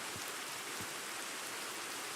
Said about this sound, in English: oh, it started raining